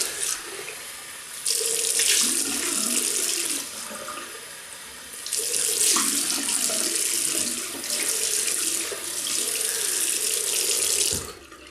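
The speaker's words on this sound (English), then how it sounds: "and I'll just rinse my face." Tap water gushes into a bathroom sink during face rinsing after a shave, two long loud bursts of running water splashing with a brief lull between them, close and without speech.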